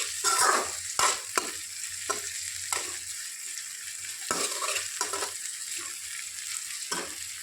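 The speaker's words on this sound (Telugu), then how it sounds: "ముందుగా కట్ చేసి పెట్టుకున్న క్యాప్సికమ్ ముక్కలు వేసుకొని కలుపుకోవాలండి మంచిగా." Chopped capsicum pieces are stirred in a frying pan, with repeated sharp spatula scrapes and knocks over a soft, steady sizzle, close and without talk.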